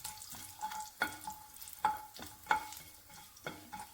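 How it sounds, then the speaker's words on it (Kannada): Cumin and coriander seeds frying in oil in a pan, a soft crackling sizzle punctuated by several scraping stirs of a spoon, close and quiet with no talking. "ಜೀರಿಗೆ ಸ್ವಲ್ಪ ಹುರಿದಾಗಕ್ಕೂ 1 ಟೀ ಸ್ಪೂನ್ ಆಗುವಷ್ಟು ಕೊತ್ತಂಬರಿನ ಹಾಕಿದ್ದೀನಿ."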